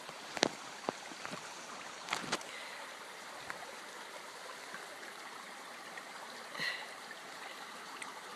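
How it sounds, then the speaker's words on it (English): Steady, soft rushing of running water from a nearby brook, continuous throughout, with a few faint clicks and knocks on top. "Don't know if you can see the brook running or you can just hear it"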